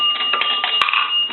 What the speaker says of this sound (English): A dime is going to ring the bell twice.